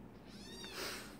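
A kitten cries with a single faint, drawn-out meow in the background of a quiet room, soft and distant.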